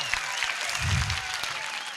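An audience at a Hindi poetry gathering claps together in a dense, steady burst of applause that stays loud and even throughout, with a faint murmur of the crowd beneath.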